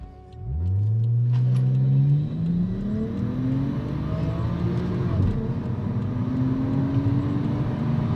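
Turbocharged Toyota Chaser Tourer V JZX100 Anniversary with an upgraded fuel pump and boost controller pulling hard under acceleration, its engine note climbing steadily in pitch, loud and close, with no talking.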